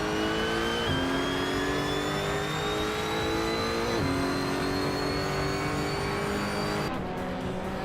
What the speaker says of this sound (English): driving a 2015 Nissan 370Z Nismo GT4 Toyota